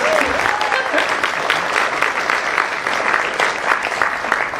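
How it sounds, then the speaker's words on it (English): At the Asia Pacific Screen Awards ceremony, an audience applauds the honored filmmakers with a steady, moderately loud round of clapping, and a few faint voices or whistles rise through it. "Yeah, a round of applause."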